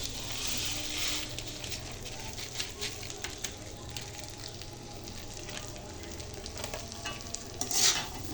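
Sweet jorda pulao rice with sugar stirred in a cooking pot, a continuous soft sizzle with irregular scraping and stirring clatter close by, and a brighter burst of sizzling near the end.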